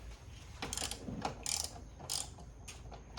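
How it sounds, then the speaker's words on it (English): Ratchet clicking in several short bursts while tightening spark plug coil bolts on a 2017 BMW 330i F30 engine, close and fairly quiet, with brief pauses between sets of clicks. "Go ahead and tighten them down with the ratchet."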